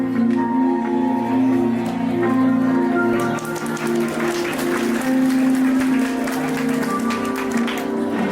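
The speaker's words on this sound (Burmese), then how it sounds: "လက်ခုပ်များဖြင့်နောက်တစ်ချိန်ထပ်မံဂုဏ်ပြုကြပါ" An audience at a press event breaks into a burst of clapping that builds from scattered claps into dense, sustained applause. A steady tonal hum runs beneath it, and faint voices are present.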